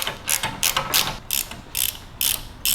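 A socket wrench ratchets on Harley-Davidson engine bolts in close, clear bursts of clicking, about six back-and-forth strokes with short pauses between them and no talk.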